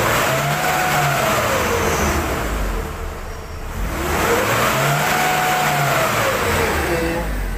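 Engine of a Nissan Navara D40 pickup revving loudly during an acceleration test after a repair, climbing and falling in two long sweeping revs, close and continuous with no talk.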